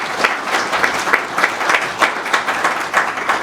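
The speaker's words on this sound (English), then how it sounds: "just want to give another big round of applause to our crew here" Audience applause for a documentary crew at an art and environment film event, steady dense clapping from a crowd with no voices, filling the whole moment at even loudness.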